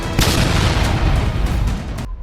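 A car bomb detonates in a loud, sustained explosive roar with broadband rumble lasting about two seconds before cutting off abruptly.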